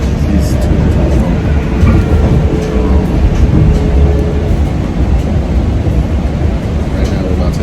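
A Metro-North train runs on rails near Valhalla heading toward Fordham, a steady loud rumble with faint rhythmic clatter, heard from inside the car with people talking under it.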